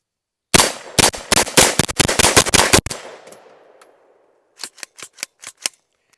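Rapid 9mm gunfire from a Matador Arms Mat 9 upper mounted on a PSA Glock-magazine lower: a fast burst of about a dozen loud, sharp shots with a fading echo, then a brief pause and five or six more spaced shots.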